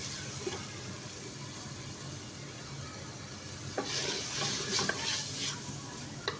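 Small-cut potatoes are stir-fried with minced meat in oil in a pan for aloo keema, giving a steady sizzle with scraping and stirring strokes that grow busier and louder in the second half.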